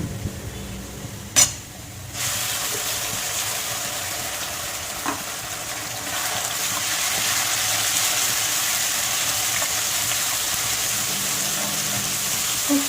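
Prawn head paste hits a pan of browned onions with a sharp thud, then a steady sizzle of frying builds and holds, with occasional stirring scrapes.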